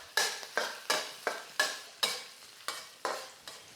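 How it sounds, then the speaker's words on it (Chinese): Spices stir-fried with minced pork in a wok, with about nine rhythmic scraping strokes of the spatula over a steady sizzle, close and moderately quiet with no talking. "猪肉炒香了，接着下香料把这个香料也爆香"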